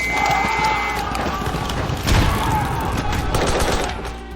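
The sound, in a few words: gunfire in a war film scene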